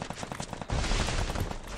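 Rapid video game gunshots crack in a quick stuttering burst, then merge into a dense, continuous roar of automatic fire.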